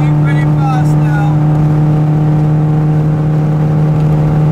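Car driving fast on a de-restricted German autobahn, a loud steady engine drone and wind roar at high speed from inside the cabin, with a brief whine early on and no voices.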